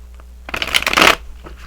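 A deck of oracle cards gets a quick riffle shuffle: one crisp, close burst of flicking cards lasting about half a second, with quiet around it.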